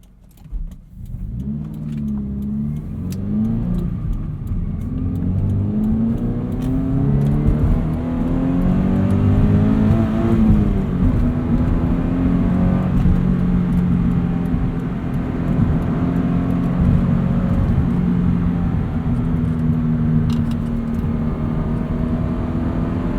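A car accelerates hard onto a highway entrance ramp at about 62 mph, its engine note rising in a long sustained pull over steady road and tire roar, loud and continuous throughout.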